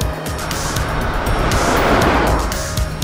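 Cars rush past on a coastal road in Kenting National Park, a loud, close swell of tyre and engine noise building to a peak mid-way and easing off, blended with a surf-like wash.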